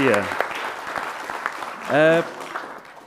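Applause from the audience at a council meeting, a moderate patter of clapping heard beneath a voice speaking over it, with one brief louder vocal swell partway through.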